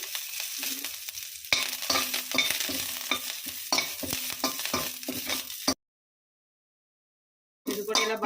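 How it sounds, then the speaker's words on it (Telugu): Oil sizzles and crackles steadily as curry leaves fry in a pan, with occasional stirring clatter, then a brief silence before the sizzle resumes. "ఇందులో కొంచెం ఆయిల్ వేసుకొని కరివేపాకు కూడా వేసి వేయించుకుందామండి"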